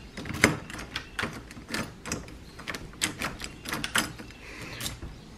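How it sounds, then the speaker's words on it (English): A homemade prank key turning in a door lock, a series of close, sharp metallic clicks and rattles at irregular intervals, quiet room and no talking. "Locks and unlocks my door."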